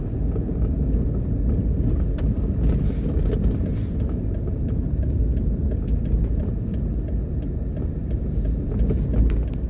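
A car drives slowly through a plaza parking lot in Jamaica, heard from inside as a steady low engine and road rumble with no talking.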